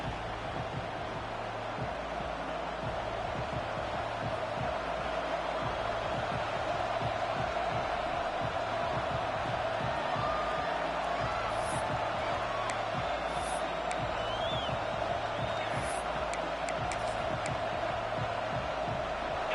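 A stadium crowd in the College Football 26 video game gives off a steady, dense roar with faint whoops during a Notre Dame game against Arizona. The noise continues without a break throughout the clip.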